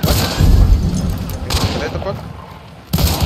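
Video game gunfire crackles in loud bursts, with a heavy volley at the start and another at the end, while a player talks over the shots.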